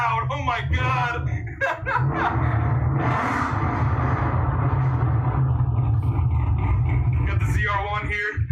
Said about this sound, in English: This car's so damn loud.